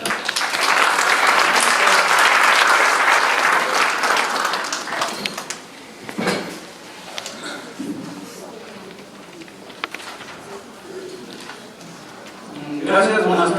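A strong round of applause at an anniversary forum of a popular organization, dense clapping for the first five seconds that tapers into scattered claps, followed by someone speaking.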